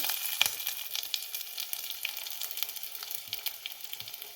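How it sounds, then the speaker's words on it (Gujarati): Chopped medium onion, cut into large pieces, sizzles and fries steadily in lightly heated oil for an almond broccoli soup, with a continuous close crackle and occasional sharper pops, no talking. "સહેજ ગરમ થાય તેલ એટલે આપણે એમાં એડ કરીશું ડુંગળી."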